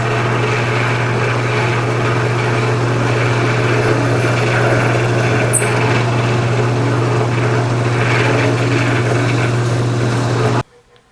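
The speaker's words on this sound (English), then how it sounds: "now I'll go to the drill press and I'll drill holes that are just the right size" A drill press boring holes into a wooden guitar headstock part during a Fender Stratocaster restoration, a steady loud motor hum running continuously for about ten seconds before stopping abruptly at the end.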